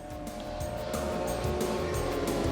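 A mini motorbike engine in the PS1 racing game Moto Racer buzzes steadily and climbs in pitch as it revs.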